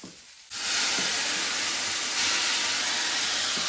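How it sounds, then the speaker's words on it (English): A hot pan deglazed with red cooking wine lets out a sudden loud, steady sizzling hiss that starts abruptly and keeps going strongly until the end. "I got some red cooking wine here. We're gonna go ahead and deglaze the pan a bit."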